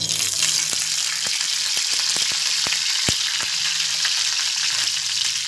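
Pomfret fish frying in oil on a tava, a dense, constant close sizzle broken by a series of sharp crackling pops and taps, with no voices.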